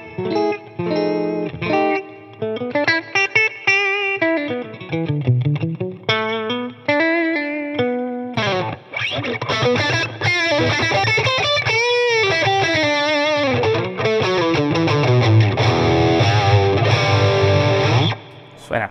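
A Fender Telecaster Deluxe Thinline electric guitar plays through heavy distortion, with chords and single-note runs that are loud and sustained and ring out continuously across the passage.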